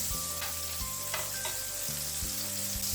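Cut vegetables sizzle in hot oil in a pan, a soft continuous frying hiss with a few faint utensil clicks and low hum beneath, no voices.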